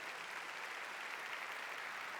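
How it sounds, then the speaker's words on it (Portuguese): Crowd applause at a conference for a team of entrepreneurs, a dense, steady roar of many hands clapping at moderate volume with no talk over it. "Forte aplauso para a nossa equipe de empreendedores."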